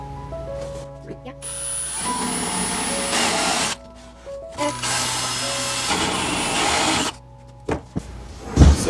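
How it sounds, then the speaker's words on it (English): A handheld power drill bores into a printed filament guide in bursts of whining motor, stopping and restarting several times at close range, with brief pauses between runs. "I'm just going to go ahead and drill."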